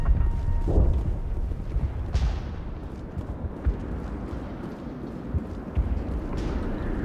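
Distant explosions rumble in the background of the video game Mass Effect Legendary Edition, with a low continuous roar and a few dull thuds, and no talking.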